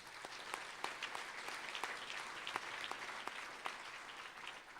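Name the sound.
audience applause for fellow awardees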